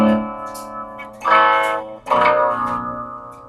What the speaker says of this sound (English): you can control the distortion level right from your guitar